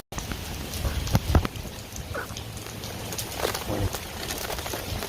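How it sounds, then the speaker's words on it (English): Steady rain falls outside, a continuous hiss heard from indoors, with a few faint thumps and bird-like chirps scattered through it and no voices. "You can hear it raining pretty good out there."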